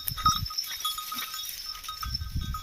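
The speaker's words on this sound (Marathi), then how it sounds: "शेळ्या इकडं तिकडं पळत आहे" A herd of goats running about in an open field, with soft scuffling footsteps and rustling in short bursts, a steady bell-like ringing tone throughout, and no speech.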